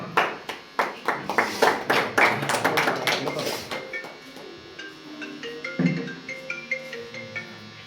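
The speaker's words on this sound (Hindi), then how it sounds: "एक जोरदार तालियों से खैर मकदम कीजिए जनाब जमशेद माहिर साहब का।" An audience at the Asoda mushaira in Hapur welcomes poet Jamshed Mahir with a loud round of clapping that dies away after about four seconds, leaving a voice and soft tonal sounds behind.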